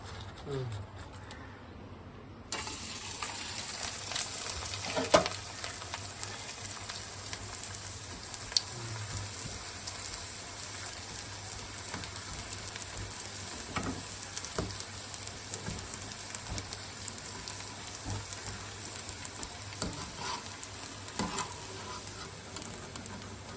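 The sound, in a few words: frying rice flake (atukula) crisps in hot oil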